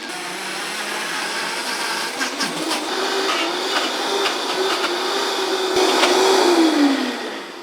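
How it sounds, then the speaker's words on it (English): Blender running on high speed grinding peanuts into peanut butter, a loud continuous whirring roar with a motor pitch that rises and wavers as the thick paste churns, no talking over it. "It only takes about probably 45 seconds to about a minute in the blender."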